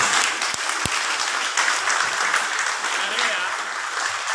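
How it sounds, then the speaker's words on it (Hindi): Loud, steady applause from a gathered audience at a Valmiki Jayanti celebration event in Delhi, sustained broadband clapping throughout with a couple of sharp claps standing out early. "एक बार जोरदार तालियां बजाएं।"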